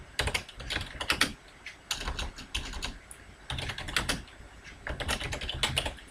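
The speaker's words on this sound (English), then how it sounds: "I'll then type and say" Typing on a computer keyboard at a desk, with quick bursts of close, crisp key clicks separated by short pauses and no voice.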